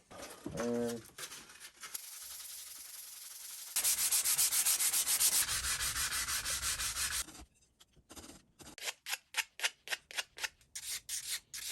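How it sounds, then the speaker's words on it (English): A wooden wand being sanded by hand with sandpaper, heard as loud, steady rhythmic rubbing strokes that shift to quicker, distinct back-and-forth scrapes near the end. "I'm probably best bringing it to its final shape with sandpaper."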